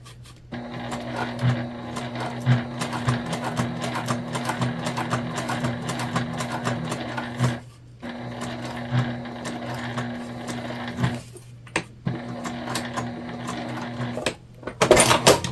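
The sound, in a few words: sewing machine top-stitching a sling bag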